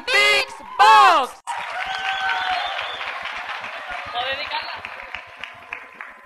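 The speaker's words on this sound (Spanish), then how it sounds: "un fuertísimo aplauso a Diego" School festival audience at a Santa Cecilia celebration bursts into loud applause and cheering for a beatboxer, after two short shouted whoops, a dense sustained roar of clapping with voices mixed in, slowly thinning out.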